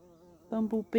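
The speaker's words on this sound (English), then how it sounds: "There's a bee, a proper bee, normal bee." A bumblebee buzzing around rosemary flowers in a spring garden, a faint close drone that wavers in pitch, with brief louder bursts near the end.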